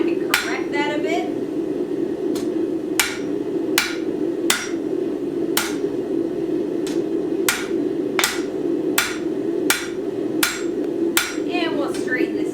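Sharp, ringing hammer blows strike hot metal while forging paperclips to correct warpage, an irregular series of about a dozen close, loud clanks over the steady roar of a forge, with brief bits of talking at the start and end.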